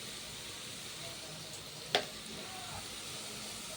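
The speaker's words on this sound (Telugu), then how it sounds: "బాగా బ్రౌన్ కలర్ వచ్చేటట్టు ఫ్రై అయ్యేంత వరకు ఆనియన్స్ ఫ్రై చేసుకోండి." Onions frying in a pan until browned, a faint steady sizzle with one brief clink midway, no voices.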